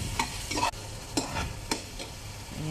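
Pancit bato flat noodles being stirred in a pan with oyster sauce and dark soy sauce, with a few separate scraping strokes over a faint sizzle and no talk.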